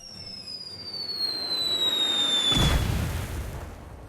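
Explosions in South Park: The Stick of Truth: a rising whistle sweeps down for a couple of seconds, then a broad, loud booming burst that rumbles and fades out.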